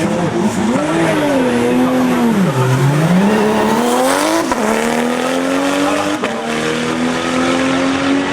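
Porsche 997 GT2 race car on a hill climb at Turckheim-Trois Epis, loud and close, the engine rising and dropping through gear changes, with tire squeal as it takes the bends.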